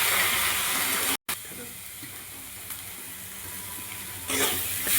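Water poured into a pan of frying masala of chilli, cumin and coriander powder and garam masala for a rohu fish dish, producing a steady steam hiss that swells toward the end, with a voice speaking over it.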